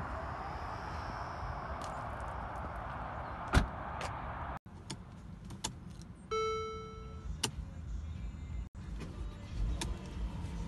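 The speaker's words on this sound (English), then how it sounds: "You do have your automatic close button." A Mercedes-Benz GLE 350 power tailgate closing on its own: a quiet mechanical hum, a brief motor whine and dull latching thuds, all fairly faint and close.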